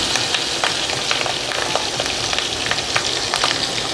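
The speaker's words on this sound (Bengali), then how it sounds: "আগে মাছের ডিমটা ভেজে নিচ্ছি।" Fish roe fries in oil in a wok, a loud, close, continuous sizzle dotted with sharp pops and crackles as the oil spits.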